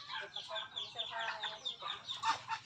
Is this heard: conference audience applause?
no